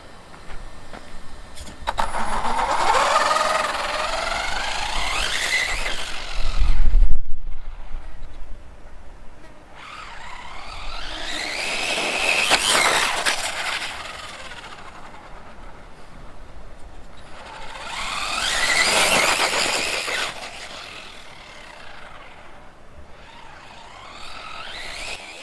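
RC car with a 3900KV sensorless brushless motor and 60A ESC on a speed run, three separate high-pitched whining passes that rise and fall as it races past, far then near, with quiet gaps between.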